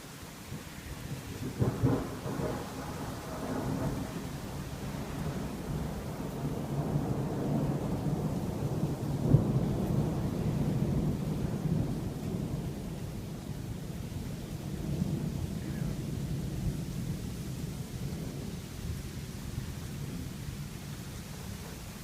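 A thunderstorm rolls on with steady heavy rain and low rumbling thunder, including one sharper crack midway, with no voices heard.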